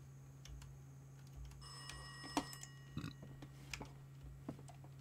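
A telephone rings in a horror video game, a faint, repeated electronic tone pattern over a low steady hum, with scattered clicks and knocks and no talking.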